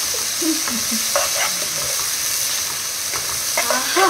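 Country chicken frying in a pan gives a steady broadband sizzle, with repeated scraping stirs of a spoon cutting through at intervals, close and fairly loud with no talking.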